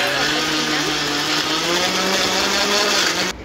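A mixer grinder whirs loudly and steadily as it grinds laddu ingredients, a close, continuous motor drone that cuts off abruptly near the end.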